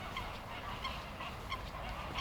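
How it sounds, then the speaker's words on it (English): Many geese honk by a river in Cappadocia, Turkey, a dense continuous chorus of overlapping calls at moderate distance, fairly faint but steady. "Oh, so many birds here."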